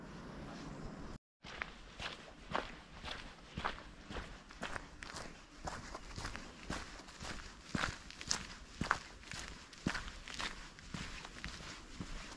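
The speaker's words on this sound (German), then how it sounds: "Mit den letzten Schritten aus dem Wald und einem Übergang über diese Treppe" A hiker's footsteps descend a flight of stairs out of a forest toward a town near Bonn, Germany, in a steady series of close, crisp steps that thud and scuff one after another.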